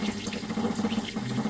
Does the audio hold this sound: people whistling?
no